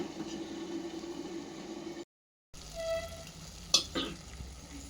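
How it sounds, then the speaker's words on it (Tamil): Mutton fry bubbling in a pot, a soft continuous sizzle and simmer at low level, briefly cut off to silence, then a sharp metallic clink over the ongoing bubbling. "இது நல்லா கொதிக்குது."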